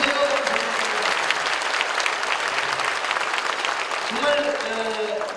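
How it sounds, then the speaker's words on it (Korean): An audience at a Korean church prayer service applauds steadily and loudly for several seconds, with a voice speaking over the clapping near the start and end. "김기현 장로님 여러분 박수해 주시면 고맙겠습니다"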